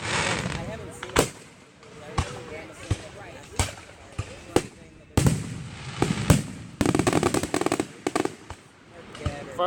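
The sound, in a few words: local Fourth of July fireworks show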